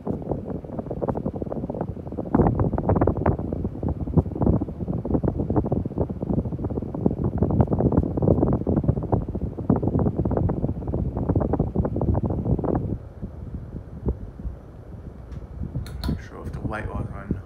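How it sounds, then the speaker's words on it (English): A Casablanca Panama II 50-inch ceiling fan on high speed, heard up close, gives a steady, rumbling whoosh of moving air that drops to a softer hush near the end. "let me bring it up close so you can hear the air movement."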